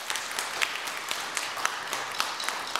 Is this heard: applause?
yes